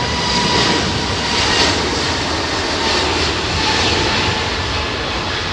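Airliner climbing out after takeoff from a windy London Heathrow with its landing gear retracting, a continuous loud jet engine roar that swells and eases slightly, with no voices.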